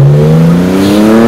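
Vintage Porsche 911 with a Speed Merge Comp exhaust and 46 IDA carburetors with 42 venturis, pulling hard in first gear, a very loud, close engine note rising steadily in pitch for a brief burst.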